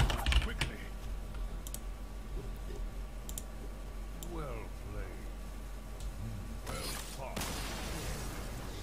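Computer keyboard typing during a Hearthstone esports championship broadcast, a run of soft clicks close by, mixed in with background game sounds and a voice talking.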